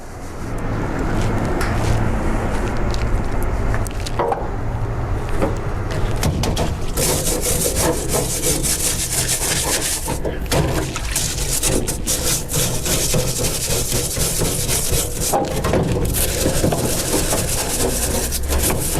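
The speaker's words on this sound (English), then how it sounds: "right here about all I'm doing really is just getting the old transmission fluid off of it now." Steady scraping and rubbing while old transmission fluid is cleaned off a rust-frozen metal part, a loud, continuous abrasive texture with dense irregular strokes throughout and no talking.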